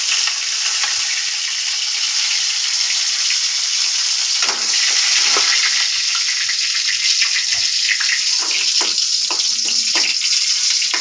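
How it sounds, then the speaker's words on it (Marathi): Curry leaves hit hot oil with a loud, continuous close sizzle and crackle that holds steady throughout, with brief clinks and stirring sounds rising in the second half while Rawas fish curry is being made. "कढीपत्ता घालते."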